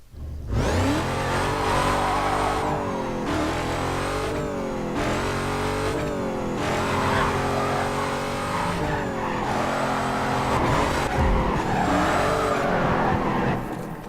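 A tuned muscle car in a racing video game roars through repeated throttle surges and gear shifts, engine pitch climbing and dropping in waves, with brief tire squeal, loud and continuous throughout.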